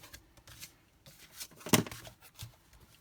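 A stack of cut paper cards for Christmas card making is tapped and shuffled together with soft papery rustles, close and quiet, with one sharper riffle in the middle.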